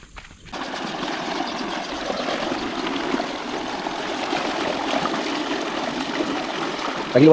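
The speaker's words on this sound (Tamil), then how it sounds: "தண்ணி" Water flows steadily near a spot where wild yam tubers are being dug up, a continuous close rushing trickle that holds even over several seconds before a brief louder bump at the end.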